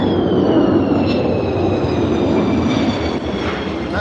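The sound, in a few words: aircraft doing go-arounds in the airfield circuit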